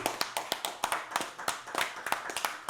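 A small group claps in a sparse, uneven rhythm, each hand clap distinct and fairly close, without a dense crowd swell.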